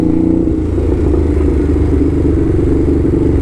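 A Ducati motorcycle rides through New York, its engine a steady, loud, close rumble with a throbbing low-pitched pulse that holds constant throughout, no speech.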